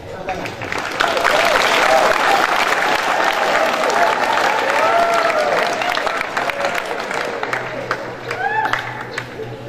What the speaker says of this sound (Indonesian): mari kita berikan aplaus kepada adik-adik kita di SMP Taruna Satria